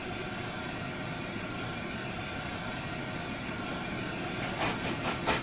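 A locomotive in Train Simulator rumbles steadily as it climbs a hill, with a continuous low engine and rail drone and a few sharper clanks near the end.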